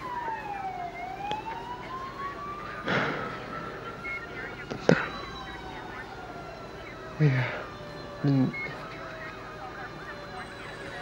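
A wailing ambulance siren rises and falls in the distance behind traffic noise, while people speak and a few sharp knocks sound nearby.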